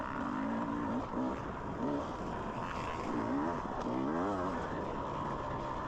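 A dirt bike engine revs and accelerates hard during a harescramble race on a rough wooded trail, pitch climbing and dropping through gear changes, loud and close from the rider's position.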